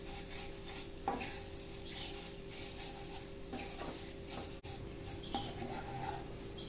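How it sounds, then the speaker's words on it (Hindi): Vermicelli roasting in ghee while being stirred, with a soft continuous sizzle, repeated scraping strokes of a spoon against the pan, and a few light clinks, heard close up with no one talking. "इसको और अच्छे से घी में हल्का सा थोड़ा सा रोस्ट कर ले रहे हैं"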